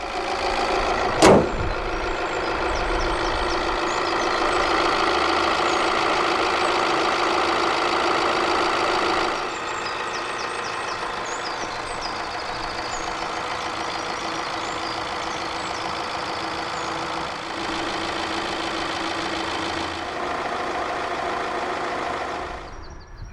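A 2015 Alfa Romeo Giulietta with the 1.6 JTDm-2 diesel engine settles into a steady idle after a sharp start-up burst, a constant mid-pitched clatter and hum that drops slightly in level partway through.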